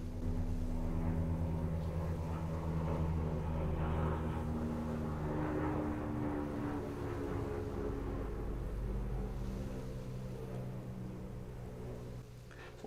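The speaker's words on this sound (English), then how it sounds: "we get to hear a plane flying over my house" A fixed-wing airplane flies over a house in the evening, a steady low droning roar that fills the whole stretch, fairly loud and close before slowly fading a little, with no talk.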